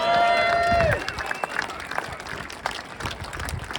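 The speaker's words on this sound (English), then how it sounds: "So give them a round of applause." A whistle-like tone cuts off as the audience at a race awards ceremony breaks into scattered clapping and cheering, the applause loud and lively with voices mixed through it.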